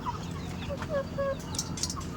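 Roosters on a farm cluck in short, repeated calls, close and clear with no talk.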